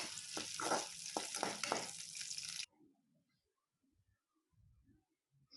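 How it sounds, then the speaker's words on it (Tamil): Shallots, garlic and ginger sauté in hot oil in a pan, giving a loud, close sizzle for about two and a half seconds before it cuts off, leaving only faint scattered stirring sounds. "சின்ன வெங்காயம் பூண்டு இஞ்சி சேர்த்துக்கலாம் வதக்கி விட்டுக்கலாம்"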